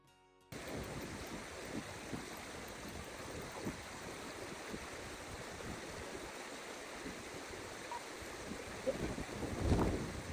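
A Cairngorms river runs in a steady, moderate rush of flowing water during a crossing with bikes, with light splashes and a brief burst of closer sloshing near the end.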